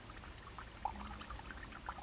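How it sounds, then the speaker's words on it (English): Water from a natural spring trickles quietly with small scattered drips and gurgles over a low soft flow, faint and close, no talking. "the next minute you could hear the little trickling of the water, and sure enough, the spring's there and it's still flowing"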